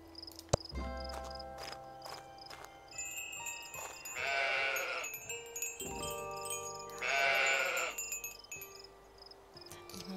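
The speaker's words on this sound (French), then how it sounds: "Les moutons." Sheep bleat in the video game Old Man's Journey, with two loud, drawn-out bleats over a soft, tonal ambient background with insect-like chirping.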